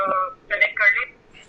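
A Skype call tone on a televised astrology phone-in show, short bright electronic chimes in quick bursts, loud and close, with no talk over them.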